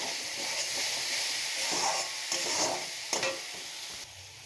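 Ground mustard and green chilli are stirred into sizzling spice oil for a snakehead fish and potato curry, a continuous close frying hiss with scraping and stirring strokes and a few brief louder crackles.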